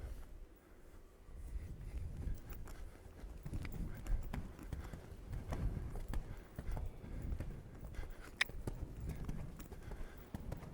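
Horse hooves thudding rhythmically on arena footing during a showjumping clinic, steady footfalls close by at a moderate level, with faint speech in the background.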